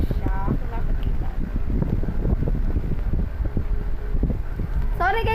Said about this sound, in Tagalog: kung may maririnig yung hangin kasi katapat ko lang yung electric fan